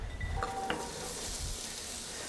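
Onions frying in ghee make a quiet, even sizzle with a couple of light utensil clicks against the pan, close and steady, with no talking.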